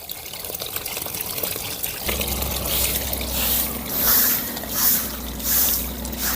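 Water runs out of a home water filter during backwash, a steady splashing flow with a low rumble underneath and rising, surging bursts of spray that swell and ease every second or so.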